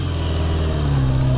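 A 1971 Honda CB750 motorcycle engine revs loud and close, a steady, throaty mid-pitched roar held without pause and with no voices over it.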